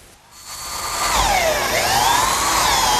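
A power drill with a 3/8 inch bit whirs up to speed and bores steadily through wood, its pitch dipping and rising under load as it cuts.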